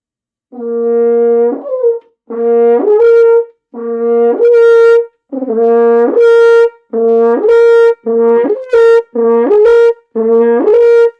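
A solo French horn plays a series of rising octave slurs, each note smearing upward through the partials in a glissando before settling and holding, repeated about eight times.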